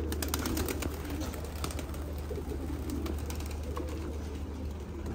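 Racing pigeons coo and flutter inside their loft at close range, a steady murmur of soft calls over continuous low background noise, with no talk.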